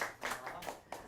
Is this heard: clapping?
yes